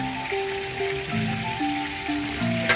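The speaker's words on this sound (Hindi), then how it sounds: "घी डाला था, अब इसमें घी गर्म हो गया इंशाल्लाह। इसमें प्याज डाल रहे हैं" Onions fry in hot ghee with a steady, crackling sizzle that holds level throughout, while a melodic tune plays over it.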